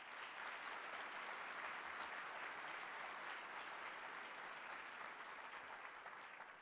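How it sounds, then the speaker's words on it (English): Sustained applause from an audience at an annual downtown address, a dense even wash of many hands clapping that holds steady and eases slightly near the end, with no voices over it. "I invite you all now to give a round of applause for my incredible hardworking staff"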